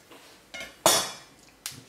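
A knife cuts through chicken wings at the joint, with three quick sharp knocks against the board, the middle one loudest, close by and alone.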